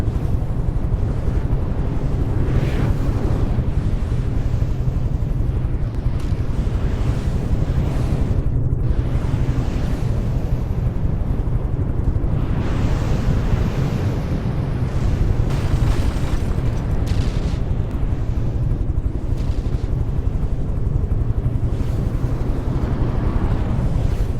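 Torpedo explosions in a naval battle video game, a continuous heavy roar of low booms and rumbling blasts that stays loud and dense throughout, with no talking over it.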